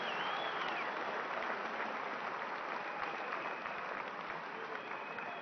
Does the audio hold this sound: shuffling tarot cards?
no